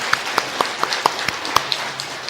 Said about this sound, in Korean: 우리 하나님께 귀한 영광의 박수 올려드리겠습니다.